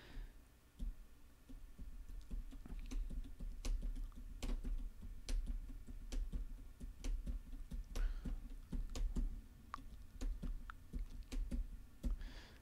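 Fingers type on a non-mechanical computer keyboard, a steady patter of soft, close key taps in uneven bursts with occasional firmer presses and no talking.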